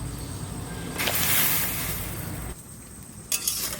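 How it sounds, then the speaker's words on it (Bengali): Potatoes go into hot water in a wok on a clay stove, with a low bubbling, stirring background, a louder burst of splashing and clatter midway, then brief knocks near the end. "ওদিকে জল গরম হয়ে গেছে, এবার আলু কটা দিয়ে দেবো।"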